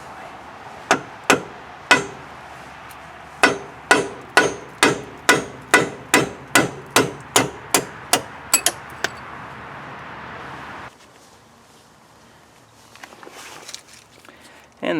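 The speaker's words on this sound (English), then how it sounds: "I went in the house and got my sledgehammer" A sledgehammer strikes metal again and again while driving a roll pin out of the front differential of a 2008 Polaris RZR 800: about fifteen sharp ringing blows at a steady, quickening pace, then quiet rustling.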